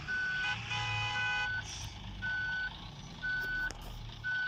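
A bus in Bus Simulator Ultimate sounds a loud reversing alarm, a series of evenly spaced electronic beeps repeating over a low engine hum.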